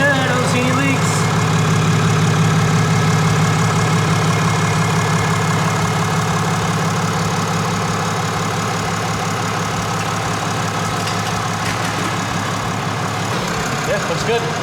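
A 6.7 Cummins diesel pickup engine fitted with a Fleece intake idles steadily and loudly up close, a constant low rumble with a faint knocking character, continuing throughout without pauses.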